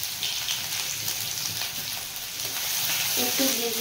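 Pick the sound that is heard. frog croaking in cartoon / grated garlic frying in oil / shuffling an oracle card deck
grated garlic frying in oil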